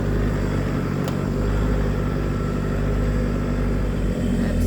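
A heavy 4WD vehicle engine idles steadily with a deep, continuous low rumble while climbing out of a creek, close by, with no talking.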